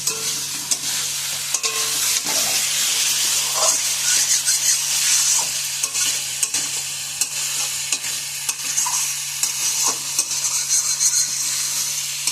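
Raw tomatoes and potatoes sauté in a spice paste in a village kitchen, a loud, dense sizzle and steam hiss punctuated by frequent scraping strokes of a stirring spoon.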